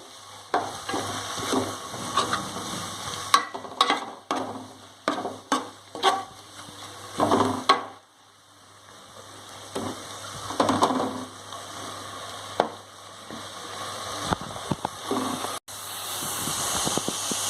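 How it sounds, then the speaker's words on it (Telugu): Mint paste for pudina rice fries in a pan, with intermittent sizzling and sharp scraping and stirring clicks from a utensil, fairly close and without talk. "ఇది పచ్చివాసన పోయే వరకు దీన్ని వేయించుకోవాలండి."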